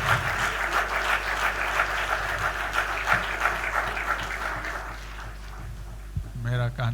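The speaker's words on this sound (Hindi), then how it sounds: "उनके लिए हम लोग जोरदार ताली बजा दें।" Audience applause at a Jesus Youth retreat thanksgiving ceremony at St. Xavier's College, a steady dense clapping across the room that fades near the end, where a voice briefly speaks.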